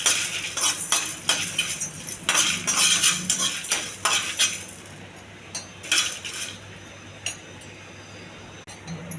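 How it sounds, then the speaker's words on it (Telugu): Green chillies are fried and stirred in a pan for mango chutney: a metal spoon scrapes and clinks steadily against the pan in quick, irregular strokes, with a faint sizzle underneath. "పచ్చిమిర్చి కూడా వేయించాలి."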